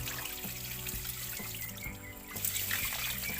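Water pours and trickles steadily onto an ant nest, a soft continuous splashing with faint gurgles, fairly quiet and close.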